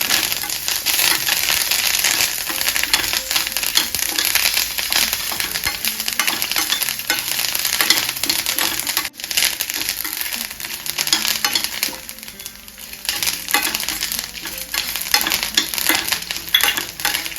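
Bitter gourd stir-fried in a pan with curry leaves, loud continuous sizzling and frying with repeated scraping and stirring strokes of a spatula, briefly easing midway before resuming.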